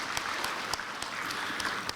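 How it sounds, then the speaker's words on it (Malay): Applause for the Chief Minister of Sarawak at a morning community gathering, a steady wash of many hands clapping from a sizeable crowd, fairly faint and continuous throughout. "Marilah kita sama-sama memberi tepukan yang gemuruh kepada Yang amat berhormat Datuk Petinggi Ketua Menteri"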